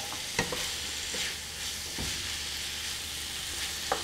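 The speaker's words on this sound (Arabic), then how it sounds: "ابى احمسها كويس مع البهارات" Liver with spices being stir-fried in a pan, a soft steady sizzle broken by a few sharp utensil clicks and scrapes, fairly quiet and without talking.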